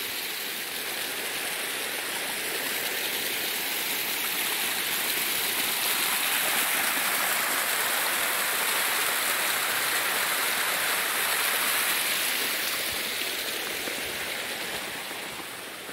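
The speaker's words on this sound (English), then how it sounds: "I love the sound of the water." Bertha Lower Falls pours in a steady, broad rush of splashing water, constant and fairly loud, swelling slightly in the middle with no talking.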